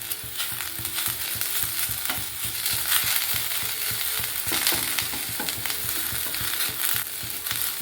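Drumstick leaves heat in a pan with a large piece of ginger and some tamarind, sizzling steadily while a spoon scrapes and stirs in a regular rhythm, close and moderately loud, with no talking.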